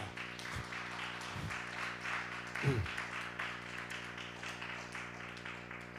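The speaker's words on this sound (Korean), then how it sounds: "박수 한번 쳐드리세요." A church congregation claps together during a sermon service, a steady, moderately loud wash of applause over a low electrical hum, with a few brief voice bursts.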